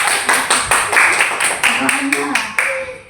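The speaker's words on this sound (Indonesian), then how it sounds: "Oke, tepuk tangan dulu untuk kelompok 1" A classroom claps for a group after its presentation, a short burst of roughly a dozen separate claps in an uneven rhythm, close and fairly loud, with no one speaking over it.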